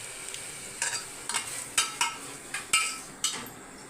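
Prawns sauté in oil in a pan for biryani: a soft sizzle runs beneath about nine sharp, evenly spaced spatula scrapes and clinks against the metal, close up.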